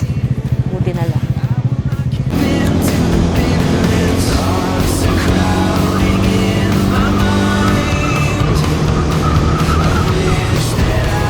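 Motorcycle riding on a sunny road in Batangas, with a steady, loud engine drone and wind rush that runs throughout, picking up after the first couple of seconds; voices may be faintly mixed under the noise.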